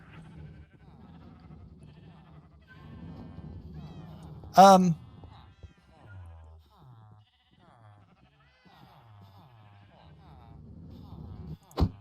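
A cat meowing inside the Minecraft game, heard as a short sharp mew amid game sounds and low background noise, with a faint second call right at the end.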